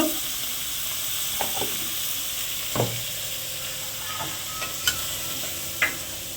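Mutton curry with potatoes sizzling steadily in a pan while it is stirred, with occasional scrapes and knocks of the spoon against the pan, close and continuous, with no one speaking.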